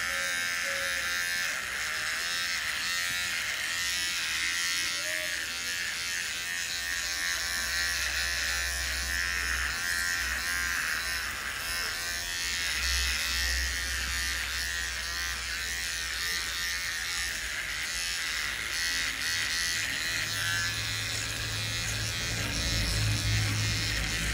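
An electric shaver buzzes continuously as it cuts through a month's growth of hair, a loud, close, unbroken whir whose pitch shifts slightly as it presses against the skin.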